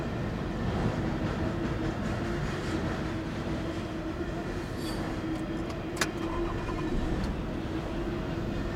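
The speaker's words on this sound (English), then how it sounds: "Well, I may as well record the rest of the train." A long freight train keeps rumbling by at a railroad crossing, wheels clattering steadily, with a few sharp metallic clinks and squeaks rising above the constant roar.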